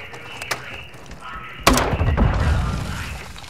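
A sharp crunching impact as a trophy system device is destroyed in a first-person shooter game, a single loud hit with a short rattling tail over steady background noise.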